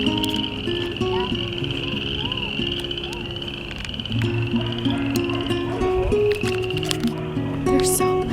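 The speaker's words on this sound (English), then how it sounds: "We are crossing the bridge right now with all the frogs at Fletcher." A large chorus of frogs croaks loudly and continuously near a bridge, dense overlapping calls filling the whole stretch with no pauses.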